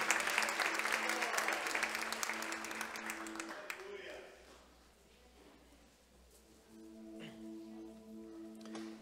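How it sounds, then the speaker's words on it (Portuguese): Church congregation applauding during a worship service, dense clapping loud for the first four seconds, then fading to a faint patter with a sustained tone or voice humming underneath. "fique de pé, aplaude e glorifica o nome santo do Senhor"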